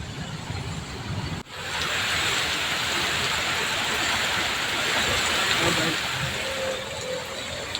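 Heavy rain over Chennai and its suburbs roars as a dense, continuous hiss that starts abruptly after a short quieter moment and then stays loud and steady to the end.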